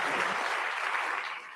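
An audience claps loudly and steadily in a dense wash of applause at a presidential library event, holding full strength before starting to fade at the very end.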